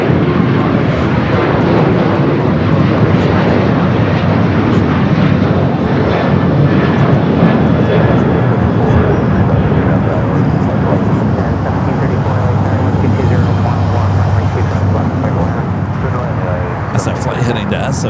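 Alaska Airlines flight 498 departs Los Angeles International bound for San Francisco, a loud, steady jet roar filling the whole stretch with broadband rumble, while a voice talks over it.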